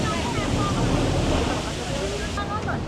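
Water trickles down a mossy rock face at Milford Sound in a steady, close rushing wash that continues throughout, with faint brief tones over it.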